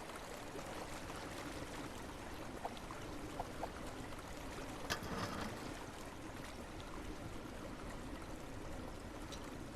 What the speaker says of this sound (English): There we go, that'll start draining.